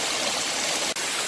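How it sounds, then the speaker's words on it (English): Steady, full rush of a waterfall at a woodland camping spot, a continuous broadband roar heard close and alone, broken only by one brief dip near the end. "check out this waterfall"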